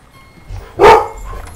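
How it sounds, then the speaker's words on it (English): A single short dog bark in The Sims 3, close and fairly loud, with quiet background between. "Ah, dogs."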